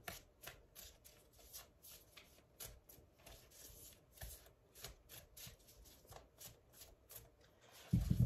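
Tarot cards are shuffled close up in quick, rhythmic riffles and soft slaps, a light papery patter running throughout, ending with a louder thump.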